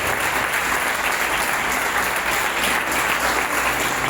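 A church congregation applauds during a Sunday morning sermon, a loud, dense, sustained roar of clapping hands that holds steady throughout.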